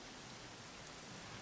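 Steady rain in the Dragon Quest XI video game, a dense, even hiss of falling drops that holds at a constant level throughout with nothing else over it.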